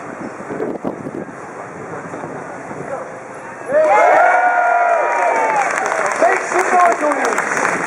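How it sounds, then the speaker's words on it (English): A crowd at an outdoor street show bursts into loud cheering and applause midway, following a stretch of quieter chatter and wind buffeting, with the cheers staying loud to the end. "I want to hear the biggest, loudest cheer from every single person"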